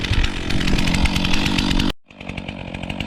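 A chainsaw cuts into a tree trunk during felling, its engine roaring loud and close under load, then dropping off sharply before resuming at a lower idle-like pitch.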